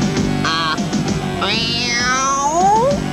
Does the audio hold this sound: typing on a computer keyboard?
no